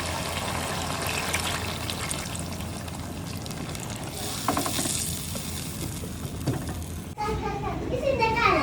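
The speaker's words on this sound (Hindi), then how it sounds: "तो अभी जो है ना हल्की सी ग्रेवी बनाएंगे, तो उसमें डाल देते हैं जी पानी।" Water is poured into a simmering curry in a village kitchen in northern Punjab to make a thin gravy, giving a steady hissing, bubbling wash of sound with voices in the background and a sharper sizzling burst near the end.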